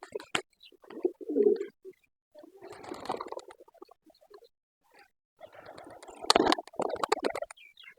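Pigeons cooing softly in a loft, a few low murmuring coos in short separate bursts with quiet gaps between them, no talking.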